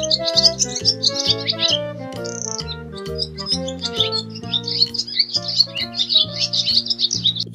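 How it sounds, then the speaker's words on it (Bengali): Dove calling from a tree, bright repeated chirping notes in quick bursts, fairly close, layered over soft sustained musical tones. "ঘুঘু পাখি ডাকছে গাছে।"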